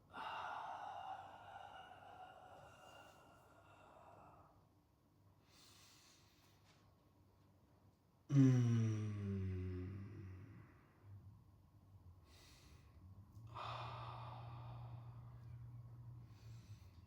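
Slow, audible breaths in and out during a yoga exercise, close and fairly soft, with a sharp forceful exhale midway and long pauses between breaths, no talk.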